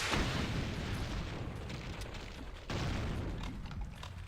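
Rockets blast and detonate inside a room on a Doom map, a sustained roar of explosions with a fresh loud burst midway, heavy rumbling throughout.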